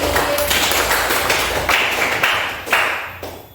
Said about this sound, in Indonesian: tepuk tangan untuk Mas Agim